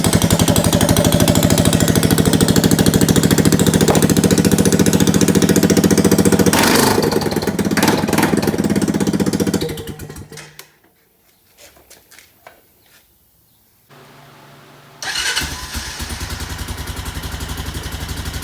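A Honda ATV engine with a freshly welded, repaired exhaust revs loudly and roughly for several seconds, drops to near silence, then roars back up near the end.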